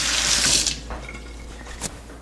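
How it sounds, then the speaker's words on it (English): Hot water runs from a kitchen tap over a knife, a loud splashing stream at first that quickly softens into lighter trickling and dripping. "I'm gonna run this knife under the hot water."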